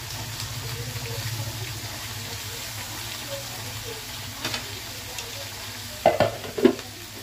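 Tamarind, tomato pieces and ivy gourd pieces fry together in a pan for chutney, making a soft, low sizzle with occasional stirring clatters that grow sharper near the end.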